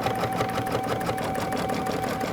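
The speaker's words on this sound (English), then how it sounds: "So I'm going to go ahead and stitch my placement line for my pocket" An embroidery machine stitches a single box-shaped placement line for a quilt pocket, a steady, fast, continuous mechanical whir and needle clatter at close range with no talking.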